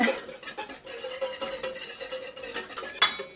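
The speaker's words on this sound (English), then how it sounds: "I'm going to place that mixture on some boiling water and whisk this for a very long time" Quick metallic clinking and scraping of a whisk against a pan of egg yolk mixture over boiling water, steady and rhythmic, close by with no voices.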